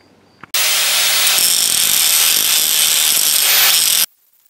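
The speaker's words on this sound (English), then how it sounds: "So I'm going to grind that down and then sand it" A power grinder bites into a weld on a metal replica sword blade, switching on abruptly for a loud, continuous high-pitched whine with a steady hum, then cutting off sharply after about three and a half seconds.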